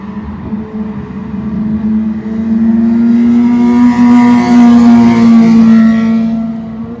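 Motorcycles pass by near a rock climbing spot, their engines rising in a loud revving drone that climbs in pitch, peaks in the middle and tapers off, with no talk.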